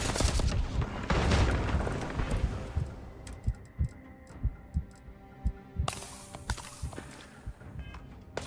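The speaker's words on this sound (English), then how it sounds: "Grenade!" Grenade explosion in the video game Starfield: a loud booming blast with heavy low rumble, followed by a series of rhythmic thumping impacts and gunfire-like hits in a chaotic combat mix.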